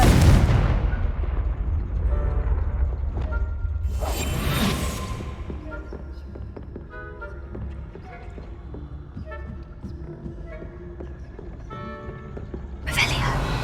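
Blasting spell explosions in the video game Hogwarts Legacy: a loud burst opens, another sharp blast follows around four seconds in, and a third hits near the end, with rumbling game sounds and tones between.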